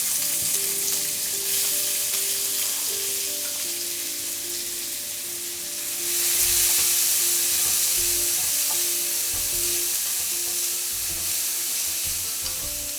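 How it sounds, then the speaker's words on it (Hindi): Finely chopped onions with cumin fry loudly in hot oil, making a dense, continuous sizzle that swells briefly partway through, with a faint steady hum underneath. "इसके अंदर ये बारीक कटे हुए प्याज"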